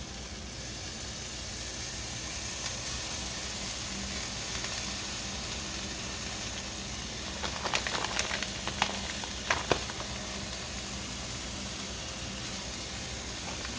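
Cheese sizzles and hisses in a hot pan as it crisps into a cheese crisp, a constant frying hiss with a few sharper pops and spits midway and no voices over it.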